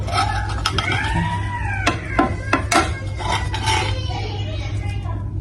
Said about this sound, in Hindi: अब इसको हम कर लेते हैं डिश आउट